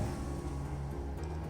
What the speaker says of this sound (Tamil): பிரேக்கை ரிலீஸ் பண்ணிங்கன்னா மோட்டருடைய வேகத்தை காமிச்சிடும்